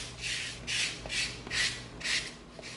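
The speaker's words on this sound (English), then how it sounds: "now we're going to come in with our 220 sanding stick and we're going to smooth the edge out" A 220-grit sanding stick rubs back and forth along the cut edge of EVA foam in soft, rhythmic raspy strokes, about five passes, close and fairly quiet.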